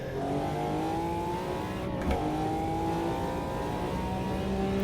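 McLaren F1 V12 LM engine in the Automobilista 2 racing game, a steady high-pitched multi-cylinder drone climbing through the revs, with a brief gear-change blip midway before the note rises again, loud and continuous.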